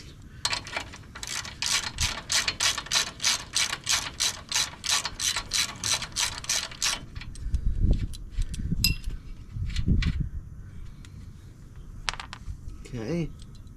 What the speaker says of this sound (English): Use my ratchet tester.